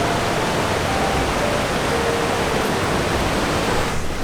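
A deep river rushes steadily at a river crossing in Utah, a loud, continuous broadband roar of flowing water that stays even from start to finish with no voices.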